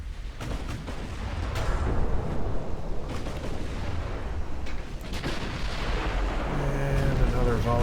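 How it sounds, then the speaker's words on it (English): Naval gun volleys booming in the warship battle game Ultimate Admiral Dreadnoughts, heavy rumbling blasts rolling over continuous low battle noise, with a voice speaking over part of it. "And another volley goes out."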